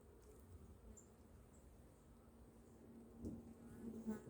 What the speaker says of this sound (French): Les petites abeilles là, dans le nourrisseur.